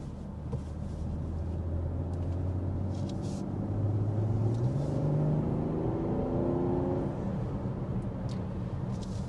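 A 2025 BMW X5 luxury SUV rounds a gentle corner and merges onto a highway, its engine note rising steadily as it accelerates, with constant road and tire rumble heard from inside the cabin.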